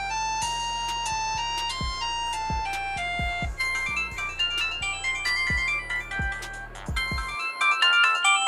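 A loud, clear melodic ringtone plays from a LOKMAT SKY GT SIM-supported AMOLED smartwatch, bright tonal chimes in a quick bouncing rhythm with plucky low notes, continuous for about seven seconds before cutting off, with no talk.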